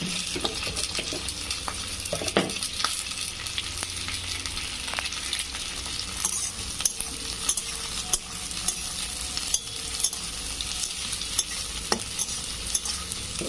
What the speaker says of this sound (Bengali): এইভাবে নেড়ে চেড়ে হালকা করে একটু আমি ভেজে নেবো, হালকা করে ভাজবো এটা।